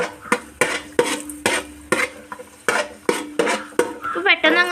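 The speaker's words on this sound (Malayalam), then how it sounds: "ആദ്യം അണ്ടിപ്പരിപ്പാട്ടോ വറുത്തെടുക്കുന്നത്." Cashews fry in a pan for chicken biryani while a spoon stirs them in a quick run of sharp, close clinks and scrapes against the metal, with a faint sizzle underneath.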